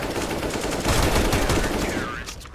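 Rapid automatic gunfire in the shooter CS:GO, a loud dense burst of shots in quick succession that swells in the middle and tails off at the end.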